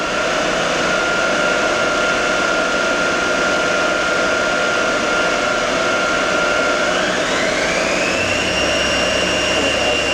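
Clausing Kondia vertical machining center spindle spinning up toward 4,000–6,000 RPM, a steady loud mechanical whine and hum that rises in pitch partway through, with no voices.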